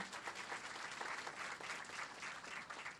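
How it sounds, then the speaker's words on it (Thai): Steady audience applause at a Thai direct-selling association gathering, a dense, even wash of many hands clapping throughout with no pause. "ปรบมือกับคุณหมออีกครั้งหนึ่งครับตรงนี้"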